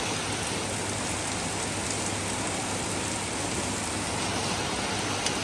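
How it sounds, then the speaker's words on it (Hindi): Heavy rain pours onto a soaked road in Madanapalle, a dense, steady hiss of drops that stays loud and even from start to finish with no voices. "देखो क्या प्यारी बारिश हो रही है।"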